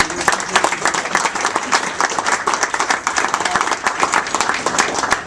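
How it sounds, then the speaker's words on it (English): A roomful of guests applauds at an anniversary reception, the clapping loud, dense and sustained throughout with no break. "So let's give a round of applause for Edgar."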